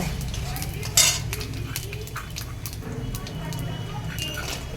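Dry red chillies, a bay leaf and panch phoron stirred in hot oil in a home kitchen pan, with a soft sizzle, a sharp utensil clink near the start, scraping under it and a voice talking over it.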